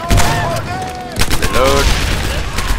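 Shotgun blasts in the combat video game Medal of Honor Airborne, a couple of loud booming shots amid game noise and a voice calling out, close and punchy.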